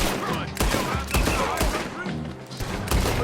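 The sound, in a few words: gunfire from a video game, Red Dead Redemption 2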